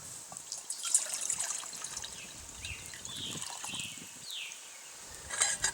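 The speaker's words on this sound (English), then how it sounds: "fill it up with water" Water trickles steadily into a Stanley cook pot from the Two Bowl Cook Set, a soft continuous pour with faint splashy detail at close range and no talking.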